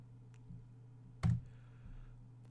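A handful of quiet keystrokes on a computer keyboard while entering values into print-settings software, with one sharper, louder key press in the middle among soft, sparse taps.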